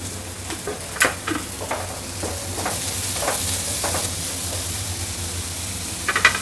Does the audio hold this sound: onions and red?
yes